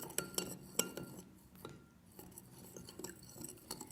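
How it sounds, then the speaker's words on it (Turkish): A spoon clinks and scrapes against a bowl while stirring a rice flour face mask, with several sharp taps early on and then softer, intermittent scraping close by. No one speaks. "Ben bunu iyicene hem topak topak olmadan karıştırayım"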